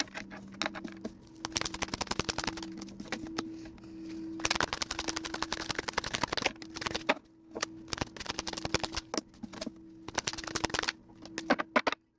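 Tarot cards being shuffled over and over, a fast, dense, crisp riffling patter with short pauses between bursts, close and steady under a faint background hum.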